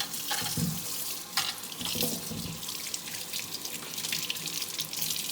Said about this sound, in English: So I wash my squash off.